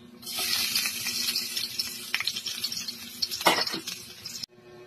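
Sliced ginger added to a hot pan of oil with annatto seeds, erupting into loud close sizzling and crackling with stirring scrapes, then cutting off abruptly near the end.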